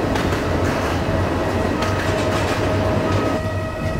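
A Vande Bharat Express on the Solapur–Mumbai route in Train Simulator rumbles steadily along the rails with continuous clickety-clack and wheel noise, running alongside a local train with no voices over it.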